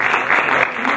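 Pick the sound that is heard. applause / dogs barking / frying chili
applause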